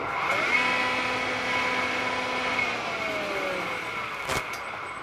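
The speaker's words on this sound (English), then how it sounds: "But I'm glad to see that the motor runs." An old Grizzly jointer's electric motor, under restoration, runs on test with a steady, moderately quiet hum and faint tonal whine. A single sharp click lands near the end.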